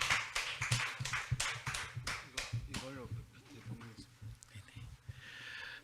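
Conference audience at a smart tourism industry session claps to welcome the next presenter, a company CEO; a burst of steady hand claps fades over a few seconds as a voice begins speaking at the microphone.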